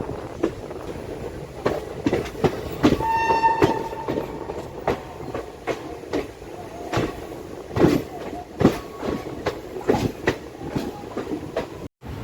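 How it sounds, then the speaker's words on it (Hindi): A passenger train pulls into Saharsa junction, wheels clattering in irregular clacks and thumps over rail joints, with a brief horn-like tone partway through, heard close from on board. "अपनी ट्रेन पहुँचने वाली है सहरसा जंक्शन पे।"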